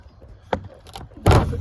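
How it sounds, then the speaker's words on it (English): An old wooden door in an aging house in Middle Georgia is pushed open, with a short creak followed by a louder scraping, dragging thud, heard alone and close. "Move this door open."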